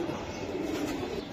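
A racing pigeon coos low and steady while being held, one brief soft murmuring call close by over faint background noise.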